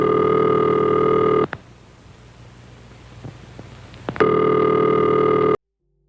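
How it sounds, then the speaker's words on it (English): A steady telephone ringing tone sounds loud and alone, breaks off into a low hiss with a few faint clicks, then returns for a second long burst. "this is the ringing signal."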